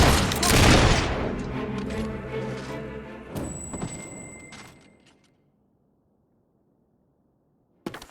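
Gunfire from the video game Fable 3 opens with a loud volley of overlapping shots, then trails off into rumbling echoes and scattered reports. Near-silence follows, broken by one sharp sound at the end.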